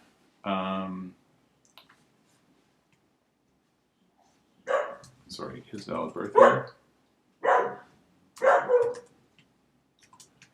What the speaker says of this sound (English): You can hear our dog.